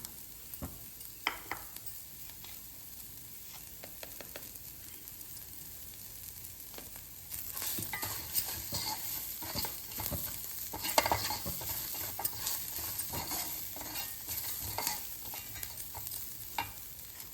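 A spoon stirs tomato aval upma in a pan, scraping and clicking in irregular strokes over a soft, steady sizzle. The stirring grows busier and a little louder partway through.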